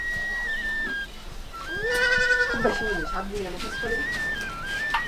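A goat at a rural home gives a wavering, drawn-out bleat close by, with a person speaking around it and a whistle-like tone earlier.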